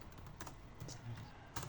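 Quick, light keystrokes on a computer keyboard entering a shutdown command in a Windows command prompt, a short soft burst of clicks heard alone.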